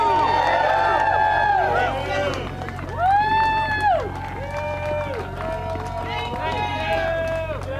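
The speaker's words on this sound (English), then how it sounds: "please just show her a round of applause for the courage" A crowd at a People's State of the Union rally cheers and applauds, with whoops and shouts rising over a steady wash of clapping that stays close and fairly loud throughout.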